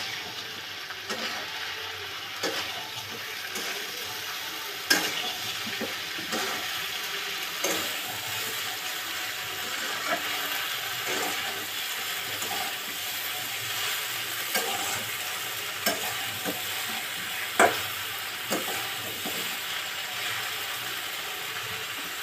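Taro stolons half-frying in a pan sizzle steadily while being stirred, with scattered scraping clicks of a utensil against the pan throughout, close and fairly loud with no talking.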